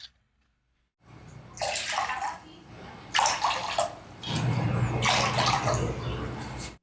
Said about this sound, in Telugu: ఇప్పుడు స్టవ్ మీద ఒక బౌల్ పెట్టుకొని మనం రవ్వ తీసుకున్న కప్పుతోనే 4 కప్పుల నీళ్లు